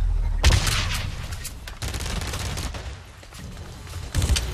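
Rapid bursts of gunfire from BlackLight: Retribution, a first-person shooter game, fire loudly in repeated volleys, with brief pauses between strings of shots.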